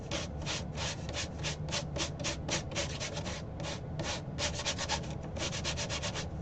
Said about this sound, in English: Then I'll be taking my sander